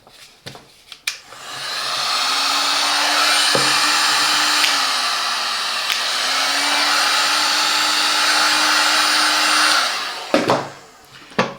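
A Parkside heat gun switched on after a few clicks and handling knocks, blowing a loud, steady whooshing hum with a faint whine that dips slightly midway, then cut off followed by more handling noise.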